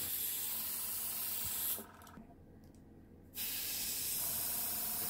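A cheap Chinese knock-off of an Iwata .3mm pistol-grip airbrush sprays paint with a loud, steady hiss of air that cuts out abruptly partway through, leaving a quieter gap, then resumes at full strength, close up with no talk.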